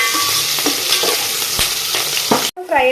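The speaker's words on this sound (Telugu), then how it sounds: "ఇప్పుడైతే మనం ఫ్రై చేసేసుకుందాం." Onions and green chillies for Telangana-style bagara rice fry in a pan, giving a steady loud sizzle broken by scraping stirs, before a brief drop to near silence at the end.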